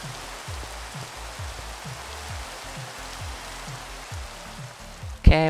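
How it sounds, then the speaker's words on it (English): Steady rain hisses through Minecraft with the FTB Infinity Lite modpack, a dense even wash of falling drops under repeating low game tones, ending with a brief sharp louder blip. "It's raining and I should sleep."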